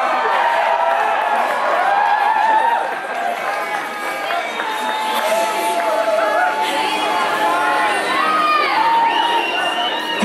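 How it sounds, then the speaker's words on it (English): A crowd at the Psicocomp 2014 deep-water solo climbing competition cheers the climbers with loud, sustained shouts and whoops. Many voices overlap and rise in bursts, and a commentator talks over the noise. "This is a big deal, come on, we gotta cheer them on."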